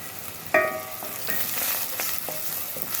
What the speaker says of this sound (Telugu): ఇంకొంచెం వేగాలి ఫ్రెండ్స్ ఉల్లిపాయ.